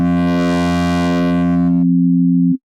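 A PlayCell software synth sine tone with its grit macro engaged, buzzing bright and harmonically rich for nearly two seconds before snapping back to a plain, pure low hum that cuts off abruptly.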